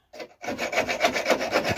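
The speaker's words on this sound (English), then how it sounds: "it's a bit of a slow old job trying to hacksaw each of those nails" A hacksaw cuts through old roofing nails under a slate roof, with quick repeated rasping strokes after a brief start, close and fairly loud.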